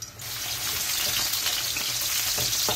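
Oil sizzles in a pan as garlic is fried to temper dal, a loud, steady crackling hiss heard close by and alone, without any talking.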